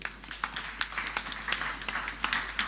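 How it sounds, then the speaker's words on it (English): An audience claps at the official re-opening of an arts and culture venue. The applause is steady and fairly faint, a scattered patter of many hands that runs throughout. "Clap for them."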